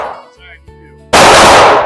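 A 9 millimeter Glock 45 pistol fires one sharp, very loud close shot after a short stretch of quiet handling noise, with a ringing tail.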